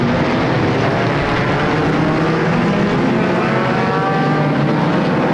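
Enduro race cars roaring around Flamboro Speedway during a Halloween Enduro 250, a dense, loud, steady wall of engine noise from a pack of cars with no talking.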